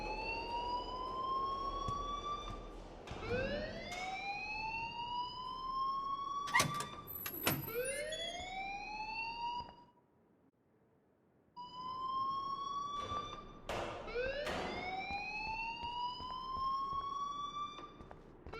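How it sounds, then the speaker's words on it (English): Rising and falling electronic alarm wail in Life Is Strange, loud and repeating in sweeping cycles, cutting out briefly near the middle before resuming. "please turn off that alarm since that's your job"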